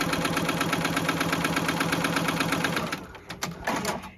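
A JUKI embroidery sewing machine stitches an in-the-hoop twisted log cabin quilt block with a loud, fast, even mechanical rattle that runs for about three seconds, then stops and gives way to a few clicks and short whirring bursts.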